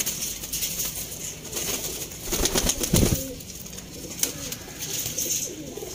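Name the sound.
pigeons cooing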